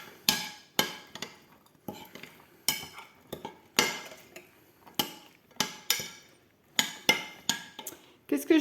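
Cranberries are stirred into a mixture in a bowl, with a utensil striking and scraping the bowl in repeated sharp clinks and knocks at an uneven rhythm, some of them strong and others lighter.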